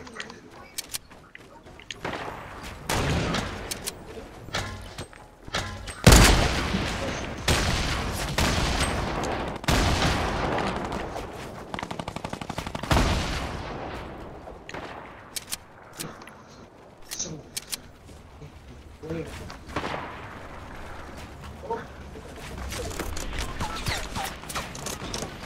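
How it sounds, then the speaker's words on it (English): Gunfire fills a Fortnite Battle Royale match, with bursts of rapid shots and single loud cracks, near and far, scattered through the stretch alongside other game effects while a player talks excitedly. "Oh, they're shooting at me."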